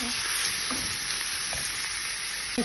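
Pork sizzles and sautés in a hot pan, a continuous crackling hiss broken by a few scraping stirs, close and steady.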